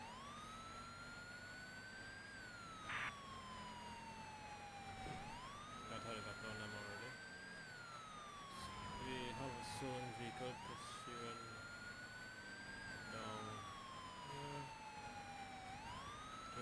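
Police car siren from a modern siren box in the LSPDFR mod for a video game, a loud wail rising and falling in slow cycles, broken once by a quicker pulsing yelp, over faint engine noise.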